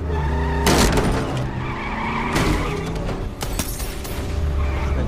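Police car skidding hard through an escape in a film chase, a loud broadband tire squeal and engine roar with sharp bursts near the start and middle, no voices.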